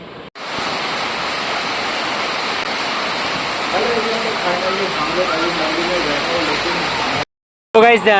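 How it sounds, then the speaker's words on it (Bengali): Heavy rain pours down during a cycling tour, a dense, loud, steady hiss that fills the whole stretch before cutting off abruptly near the end, followed by a brief burst of other sound. "তো এখন আরও ভারী বৃষ্টি হচ্ছে"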